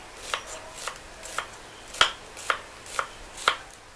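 Onion being sliced with a knife on a board makes eight sharp, evenly spaced cuts about half a second apart, close and fairly quiet over a faint background hiss.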